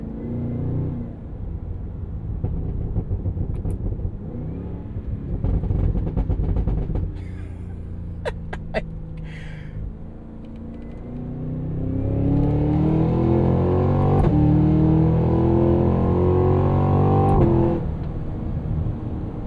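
A 2025 Cadillac Escalade V, a 682 hp supercharged V8 SUV, drives along with a low rumbling engine note, a brief lull, then a rising, building acceleration growl heard from inside the cabin, with no talking.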